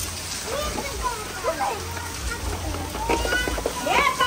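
Heavy rain with hail falls in Baramati, a dense continuous splashing roar of water, with voices talking over it throughout.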